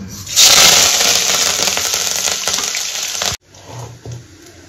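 Whole spices, ajwain and fenugreek among them, hit hot oil for a curry tempering, giving a loud, steady sizzle and crackle that runs about three seconds before cutting off abruptly, followed by quieter clinks.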